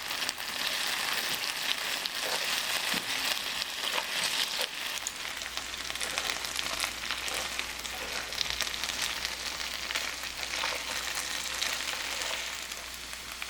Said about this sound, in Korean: 기름도 너무 많고 뒤집기에 자신이 없어 달달 볶는 방법을 택했다